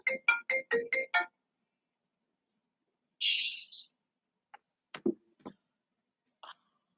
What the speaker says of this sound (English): I got a phone call right in the middle.